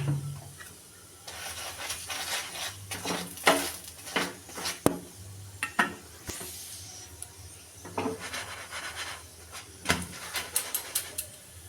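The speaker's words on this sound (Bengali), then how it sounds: "প্রথমে শুকনো করে ভেজে নেব তারপর তেল দিয়ে ভেজে নেব" Aloo paratha frying in white oil on a hot tawa, a soft sizzle under intermittent scraping and clattering of a spatula on the pan, close and moderately quiet.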